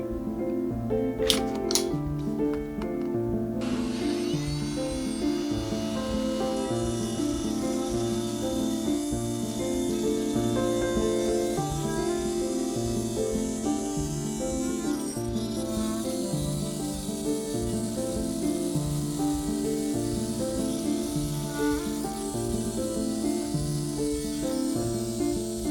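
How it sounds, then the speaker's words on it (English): A Vevor GX LMT01 oscillating multitool runs steadily with its included HSS blade, buzzing loudly and continuously through a cut for the whole stretch with no pauses and no speech. "This time I'll be using the HSS blade included with the Vevor oscillating tool."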